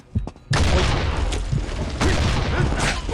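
Grenade blasts and gunfire in the mobile shooter Combat Master, a sudden heavy burst after a short quiet start, then a dense roar of booms with a second loud surge near the end.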